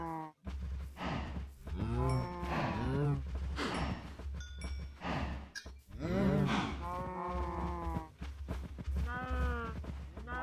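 Several cows moo repeatedly in Minecraft, their long drawn-out calls overlapping in a steady, fairly loud series from close by.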